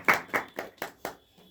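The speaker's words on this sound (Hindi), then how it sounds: "तालियां बजा लीजिए दूसरे के लिए" Five evenly spaced hand claps in a classroom, close and distinct, with a faint murmur at the end.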